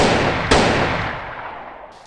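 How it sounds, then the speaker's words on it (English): Gunfire in a movie comedy scene: a loud blast with a sharp second crack about half a second in, then a long rumbling decay that trails off over two seconds, with no talking. "And gunshots go off."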